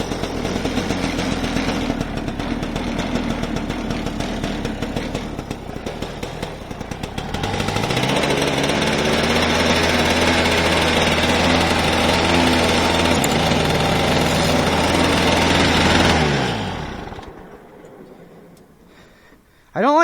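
A snow blower engine runs loud and close, a harsh rattling roar that rises in pitch partway through, holds steady, then winds down and cuts off near the end.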